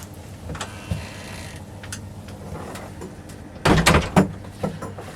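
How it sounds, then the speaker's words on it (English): A creaking wooden shed door in a workshop is pushed shut: quiet creaks and shuffling, then a louder burst of wood scraping and knocking as it closes. "I'm just going to shut my shed door because it's creaking"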